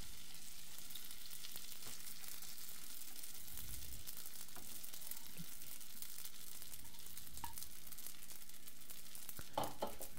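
Kadaif pastry fries in melted butter in a pan while being stirred, a soft, continuous sizzle with occasional scraping and rustling, faint and steady throughout.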